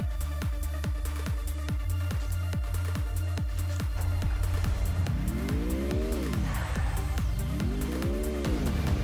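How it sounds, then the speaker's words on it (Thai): A vehicle in Free Fire speeds downhill with a loud, close engine drone, rhythmic pulsing at first, then rising and falling revs in two swooping sweeps, with no voices. "ขับลงเนินไปเลยทุกคน ไม่สนอะไรทั้งนั้นละฉันขับไปละ"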